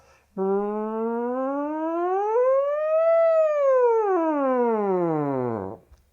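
A single human voice imitates a police siren as a vocal exercise, gliding up to a high pitch and back down in one long sustained wail.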